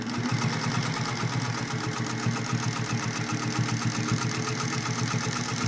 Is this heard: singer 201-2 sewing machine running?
yes